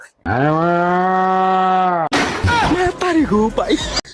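A person imitates a cow with a long, steady moo lasting about two seconds, followed by lively talking.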